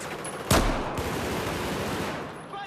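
Battlefield 4 video game gunfire: one sharp, loud shot followed by a sustained rumble of continuous rapid fire and battlefield noise.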